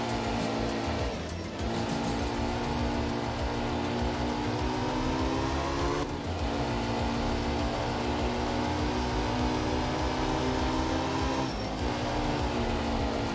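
A rally car drives continuously in the racing game Art of Rally, its steady engine drone holding level and loud throughout, with a few brief dips as the car shifts or turns.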